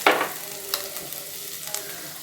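Grated coconut hitting hot ghee in a pan, with a burst of sizzling at the start that settles into a steady low fry, broken by a couple of light stirring scrapes.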